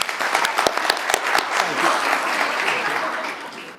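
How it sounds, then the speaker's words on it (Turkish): A comedy show audience breaks into applause, a few sharp, distinct claps at first that swell into a sustained, thick round of clapping from the crowd. "Ayrıl diyenler bir alkışlayabilir mi?"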